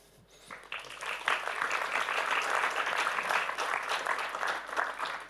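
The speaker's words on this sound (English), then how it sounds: "a big round of applause" Sustained applause from a conference audience at a cybersecurity and space panel, rising quickly after a quiet start and holding as a dense, steady clatter of many hands for several seconds.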